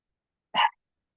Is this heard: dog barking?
yes